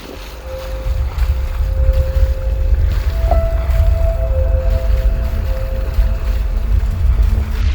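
A sailboat's engine motors steadily through dead-calm air, a low continuous drone with a faint tonal hum running throughout, with no talk.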